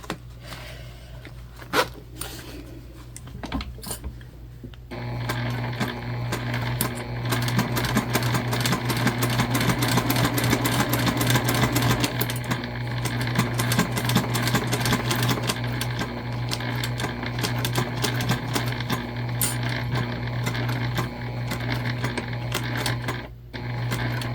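A sewing machine stitches a fabric heart at a quarter-inch seam allowance: after a few quiet seconds the motor kicks in and runs as a loud, steady, buzzing whir with rapid needle clatter until just before the end.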